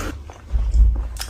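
Someone bites into and chews a burger, with close, soft crunching and squishy mouth sounds in a short burst.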